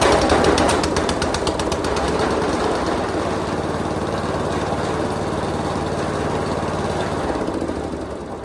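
A small engine runs steadily after a choked start, a loud, close, rapid mechanical chatter with a low droning hum that holds for several seconds and eases slightly toward the end.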